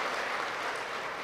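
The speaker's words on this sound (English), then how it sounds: "Please give him a round of applause." Audience members at a political anti-crime town hall in Chaguanas give steady, moderately loud applause that carries through the whole short moment.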